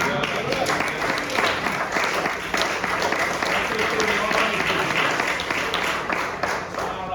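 A church congregation clapping during a Wednesday night worship service, steady rhythmic palms close and loud, with voices mixed in beneath.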